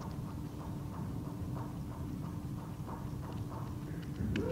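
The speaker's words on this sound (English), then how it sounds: "you will soon hear an echo of the footsteps, which actually indicates that you can now go to the left." Footsteps walk steadily along a corridor in an audio video game for blind players, a regular rhythm of soft, echoing steps over a constant low background hum, with no talking.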